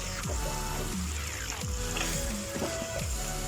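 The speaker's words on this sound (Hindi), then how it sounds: "अब इसमें हमें चिकन को भूनना है।" Chicken frying in a pan with spinach for palak chicken, a soft steady sizzle running through the whole stretch with a few clinks and stirring scrapes of a spoon against the pan.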